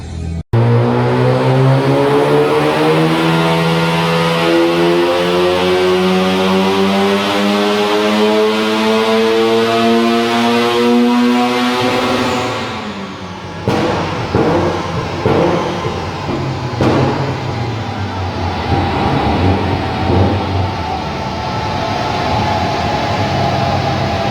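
A turbocharged Mazda RX-7 rotary engine of about 600 horsepower, an FC engine with an FD intake manifold, revs loudly with a rising tone, then drops to a rough, popping idle, recorded close up.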